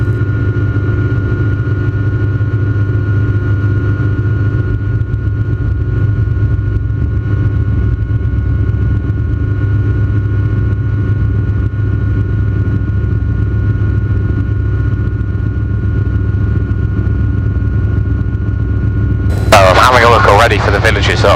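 Light training helicopter powering up from a hover for takeoff down a grass-edged runway, a steady loud turbine and rotor drone with constant low thrum throughout and a brief burst of wind or radio noise near the end.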